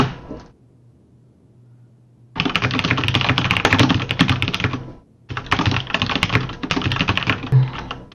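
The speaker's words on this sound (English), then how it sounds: "you're a loud typer" Rapid, loud clatter of keys on a computer keyboard during a podcast recording, starting after a quiet pause and running in two dense bursts separated by a short gap, close to the microphone.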